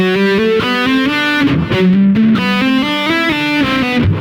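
Heavily distorted electric guitar plays a steady run of chugging, palm-muted low notes with a few sustained bends, loud and close with no voices.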